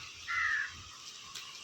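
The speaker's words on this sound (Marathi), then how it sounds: "कावळा का ओरडते" A single crow caws once, loud and close, against a quiet outdoor background.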